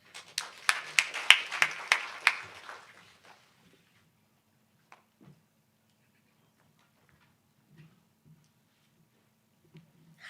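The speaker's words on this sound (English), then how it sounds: "A round of applause for that." A brief burst of audience applause rises as a cluster of sharp, quick claps, fades within a few seconds, and leaves near silence with only a few faint knocks.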